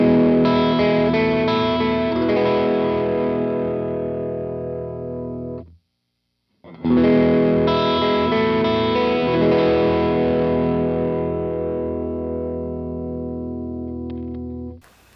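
Distorted electric guitar strums through Lindy Fralin Noiseless Jazzmaster pickups in the out-of-phase middle position ring out and decay, a brief silence, then another long sustained chord slowly fading; thin, hollow tone, no hum, no talking.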